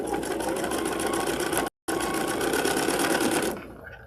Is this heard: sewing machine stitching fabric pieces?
yes